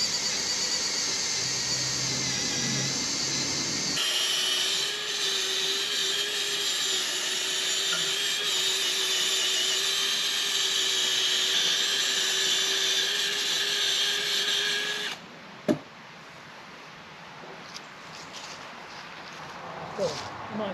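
A power drill bores a pilot hole into wood, giving a steady, close, high whine that runs for about eleven seconds before stopping abruptly, with faint speech around it.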